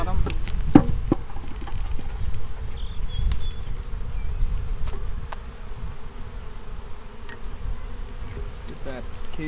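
Dense swarm of package bees buzzing steadily and close, being sprayed with syrup water and shaken down into a hive during installation, with a few sharp taps and knocks mixed into the continuous hum.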